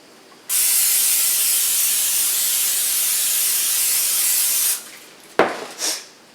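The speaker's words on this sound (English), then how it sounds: "So I'm just going to spray the pan." Cooking spray hisses onto a pan in one long, continuous close-up burst of several seconds, followed by a sharp clatter and a short second spritz.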